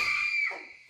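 A woman's high, sustained scream from a horror film scene is abruptly cut short, loud and shrill before fading into a lower tail.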